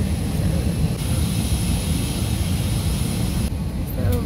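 A passenger airplane's engines drone steadily while the plane sits waiting to take off, a constant loud low rumble with a high whine heard from inside the cabin.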